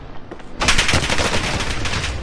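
Heavy automatic gunfire in a war video game erupts after a brief quieter moment, a dense, loud, continuous rattle of shots with no talking.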